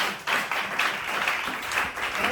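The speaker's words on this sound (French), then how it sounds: "Applaudissez le Seigneur Jésus." Worshippers at a church service applaud together in a dense, steady patter of clapping that swells slightly and carries on throughout, with no clear speech on top.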